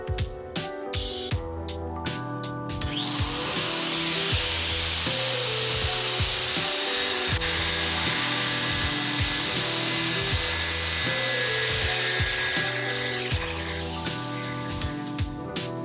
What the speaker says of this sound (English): we're going to grind into the crack and watch the spark to see what we can determine about the composition of the cast